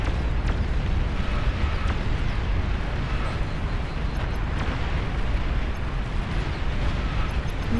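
A nuclear missile strike erupts in the real-time strategy game Beyond All Reason, a dense, continuous roar of low rumbling blast noise that holds steady and loud throughout with no voices.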